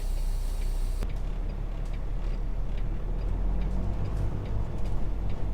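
Hazard flasher ticking inside the cab of a Peterbilt truck stopped on a snowbound closed highway in Canada, a steady rhythmic click over a loud continuous engine rumble, with no talk.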